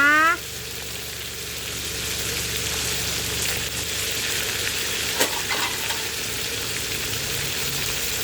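Fish frying in hot oil, a dense continuous crackle and hiss of spattering close by, starting with a brief sharp squeak, then steady sizzling with occasional louder pops, no talking.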